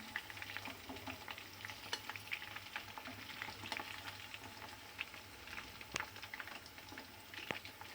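Chicken wings fry in oil as a faint, steady bubbling sizzle with small crackles and an occasional soft utensil tap.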